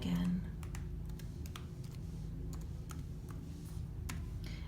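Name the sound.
typing a password on a Chromebook keyboard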